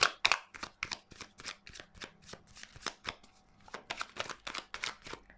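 Tarot cards are shuffled and handled close up, with a rapid series of crisp papery riffles and snaps in quick irregular bursts. No one speaks.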